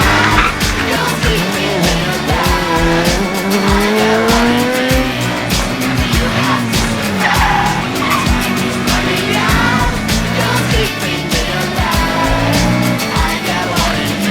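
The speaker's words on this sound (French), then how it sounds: "ça a couiné du pneu, manqué de faire du tête à queue, ça a repeint les bandes blanches en noir d'un grand coup de gaz rageux" A racing sidecar outfit in the Moto Tour 2012 road event squeals and skids its tires under hard throttle, a loud, sustained screech over snarling engine noise that runs almost without pause.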